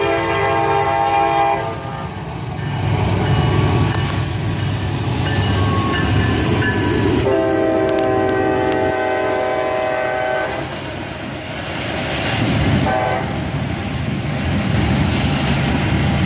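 An SD50-3 diesel locomotive trailed by an AC44CW hauls a train past in Carlisle, engine rumbling close and loud with wheels clacking, while the horn sounds in sustained blasts near the start, again midway, and briefly later.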